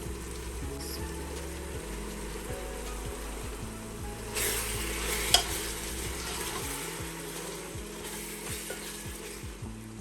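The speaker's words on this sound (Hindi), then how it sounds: "मसाले को अच्छी तरह भून लेंगे।" Turmeric, salt and chili powder fry in oil for a beef trotters curry, sizzling steadily while a spoon stirs and scrapes the pan.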